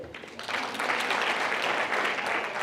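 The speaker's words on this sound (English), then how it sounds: "Let's clap hands for her." Sales conference audience clapping hands, a brief burst of brisk applause that swells quickly and holds steady, fairly distant in a large room.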